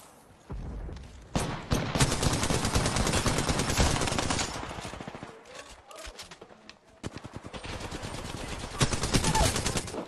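Sustained automatic gunfire in Apex Legends, loud and close, rattling in long rapid bursts with a short lull midway before the shooting resumes just as densely.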